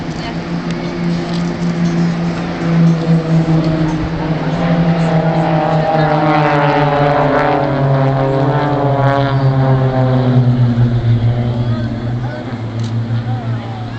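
Blades aerobatic propeller planes at a seaside air show flying the Gatling manoeuvre in close formation, two aircraft barrel rolling around a third. Their engines drone steadily and loudly throughout, with pitch swelling and shifting as they roll.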